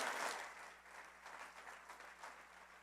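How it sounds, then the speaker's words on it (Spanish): A church congregation applauds during a Spanish-language sermon, a soft, steady patter of many hands clapping that fades slightly over a few seconds. "Puedes darle un fuerte aplauso al Señor."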